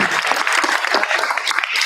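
Attendees at a board meeting clap together in a dense, continuous burst of applause that stays loud and even for a couple of seconds.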